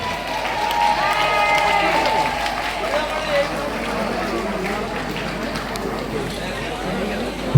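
Crowd clapping and cheering at a village tug-of-war contest in Kerala as a team comes in, a steady wash of applause and hubbub underneath a man announcing over a loudspeaker.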